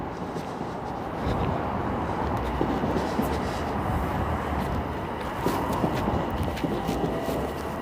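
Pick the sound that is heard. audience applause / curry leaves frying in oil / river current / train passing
train passing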